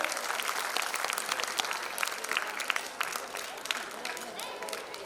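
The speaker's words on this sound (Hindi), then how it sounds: "जोरदार तालियां" Enthusiastic applause from a crowd honoring a doctor at an annual general meeting, dense continuous clapping throughout at a steady moderate level.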